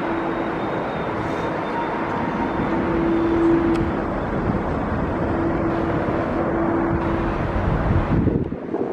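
Jet aircraft engines at London Heathrow Airport, a twin-engine airliner on a go-around, roaring loud and steady for about eight seconds under gusty wind buffeting the microphone, with a humming engine tone that swells midway before easing.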